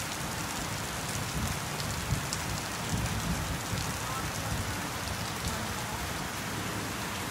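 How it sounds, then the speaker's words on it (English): Steady heavy rain pours on surfaces during an evening storm, a dense continuous hiss with a few soft rumbles of thunder blending in, while someone talks faintly in the background. "Thunder, here's the thunder."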